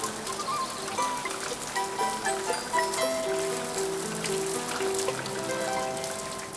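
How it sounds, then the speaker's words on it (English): Steady patter of cartoon rain shower drumming down, with music-like tonal lines woven through, continuous and fairly loud for the whole stretch. "There is a thunder shower after all."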